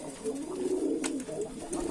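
Racing pigeons in a cage set out in the sun coo softly and repeatedly, close by, with low rolling calls.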